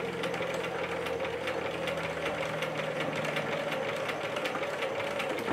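A sewing machine runs a steady continuous stitch along a double seam on a quilt-as-you-go tote bag, close and fairly loud, a dense mechanical whir with a rapid even rhythm and a sustained low hum throughout.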